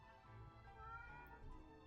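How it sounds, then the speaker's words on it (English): A cat meows in the video game Genshin Impact, a soft drawn-out cry, very quiet and distant against a low background hum. "She won't stop meowing!"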